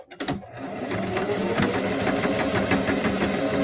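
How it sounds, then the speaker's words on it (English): A sewing machine stitching through fabric near a zipper on a fabric book cover starts with a couple of clicks, then runs in a steady, fast mechanical chatter of needle strokes, close and continuous. "I'm going to start stitching and back stitch"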